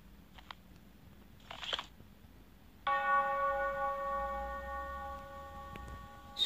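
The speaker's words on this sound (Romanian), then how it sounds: "Sună clopotele sau mi s-a părut mie?" Church bells ringing in the horror video game The Mail, a sustained bright metallic tone that starts suddenly partway through after a few soft clicks and then slowly decays.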